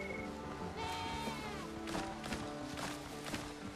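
Several goats bleat in short wavering calls in the game Windrose, over a busy background of soft footsteps and low music-like tones.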